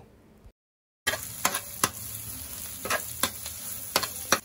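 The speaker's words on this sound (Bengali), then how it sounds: "সাদা তিল দিয়ে ওগুলোকে আবার নেড়ে ছেড়ে ভেজে নিব" Chicken momo filling frying with white sesame seeds in a hot pan: after a brief silent gap, a close steady sizzle with repeated sharp stirring scrapes, no voices.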